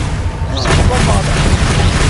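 A Bombarda spell going off in the video game Hogwarts Legacy, heard as a loud booming burst with a rumbling tail, mixed with a voice speaking.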